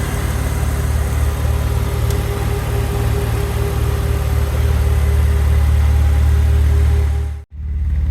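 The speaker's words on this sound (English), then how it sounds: "It's now just switched up to the second stage cooling fan, so it's ramped up its speed." A loud, steady whirring roar of an Alfa Romeo GT's radiator cooling fan running at its second, high-speed stage alongside a hum from an engine with a failing head gasket, then cutting off abruptly near the end.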